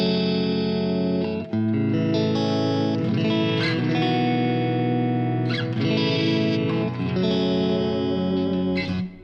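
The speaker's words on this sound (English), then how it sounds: "So we can add the dynamic room yet again. One of my favorite reverb pedals." Electric guitar played through a Line 6 Helix dynamic room reverb for a modern rock tone, heavily distorted sustained chords ringing into a spacious room ambience, loud and continuous with brief changes between strums.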